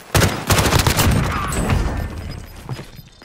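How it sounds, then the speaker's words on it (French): Enemy gunfire in Warzone erupts as loud, close volleys of rapid shots, densest early and then thinning toward the end. "J'essuie des tirs ennemis."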